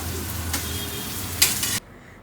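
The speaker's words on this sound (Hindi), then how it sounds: "मैंने यहाँ पर दाल को तड़का दिया" Dal being tempered with a hot tadka in a home kitchen, a soft steady sizzle with a brief brighter burst of crackling near the end before it drops away, close and fairly quiet.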